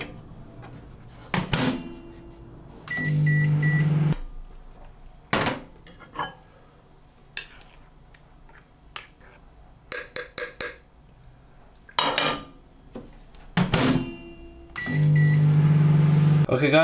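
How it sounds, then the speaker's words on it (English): Kitchen clatter of doors, dishes and clinks, with a microwave heating porridge humming steadily in two stretches and beeping at the end of each. "And now it's ready to go in the microwave."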